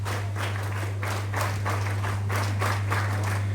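NCC cadets applaud a prize winner at a prize distribution ceremony, a steady wash of many hands clapping together for several seconds, close and fairly loud, with a constant low electrical hum underneath.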